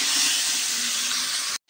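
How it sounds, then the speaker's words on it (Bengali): Pointed gourd (potol) pieces frying in hot oil until lightly reddened, giving a steady loud hiss that fills the whole clip before cutting off abruptly near the end. "হালকা লাল লাল করে পটলগুলো ভেজে নেব আমি।"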